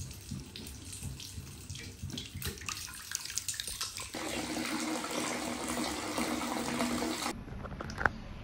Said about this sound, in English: So I washed my hair.